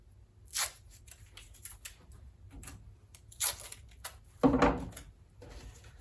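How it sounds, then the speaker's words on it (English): Tape is pulled and torn to join two paper cups base to base, with a few short ripping strips and crackles spaced apart, the loudest near the end, close and otherwise quiet. "I tape the cups together base to base, like so"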